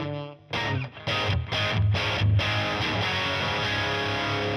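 Electric guitar played through a Tonex amp modeler with a short spring reverb rings out in sustained, driven chords after a few quick choppy stabs, loud and alone.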